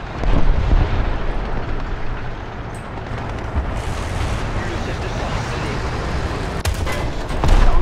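Heavy gunfire and booming explosions from a War Thunder ground battle, a dense continuous roar of shots and blasts close up, with bursts near the end, as someone talks over it.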